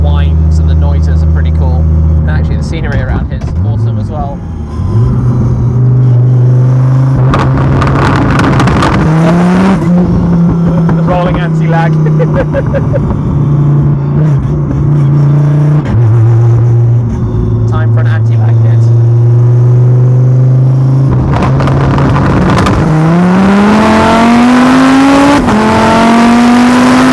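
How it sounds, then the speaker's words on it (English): A drag racing car revs hard through repeated rising engine sweeps, with pops and bangs from side exhausts at each shift, very loud and close with a voice talking over it. "Pops and explosions from the side exhausts on shifts."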